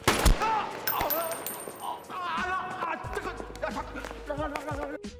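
Rapid bursts of gunfire in a gangster movie scene, loud sharp shots with ringing metallic clinks and echoes, several close volleys over a few seconds with no talk.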